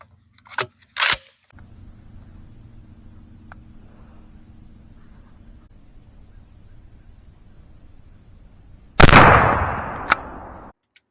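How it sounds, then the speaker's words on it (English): A 12-gauge shotgun firing a 2.75-inch Winchester SuperX #4 buckshot load: a few quiet clicks and a steady low hum at first, then one loud, close blast near the end that rings out and fades. "here's our last shot"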